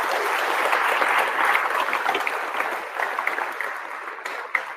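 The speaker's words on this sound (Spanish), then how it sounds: "Dele un aplauso al Señor en esta hora, mi hermano." A church congregation applauds the Lord during a service: a broad wash of many hands clapping, fairly steady and moderately loud, fading slightly toward the end with a few sharper claps.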